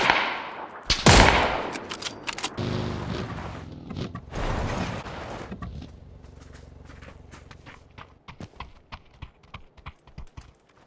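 Rapid bursts of gunfire and scattered shots in a first-person shooter video game, loud at first then thinning into sparse, sharp pops and clicks over a quieter background.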